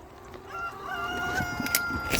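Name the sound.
chickens clucking and crowing on a farm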